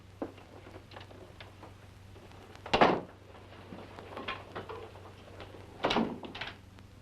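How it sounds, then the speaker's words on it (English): A door in the 1957 Roger Corman film Not of This Earth is shut and locked in a quiet room, with two separate thuds and latch clunks spaced a few seconds apart amid faint small knocks. "You locked my door."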